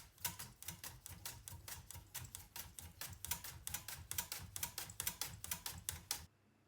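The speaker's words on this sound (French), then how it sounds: "on s'attaque au fenouil avec un outil indispensable, la mandoline, pour avoir des tranches ultra fines" Fennel is sliced ultra-thin on a mandoline in a quick, even run of about two dozen crisp close strokes that stops abruptly near the end.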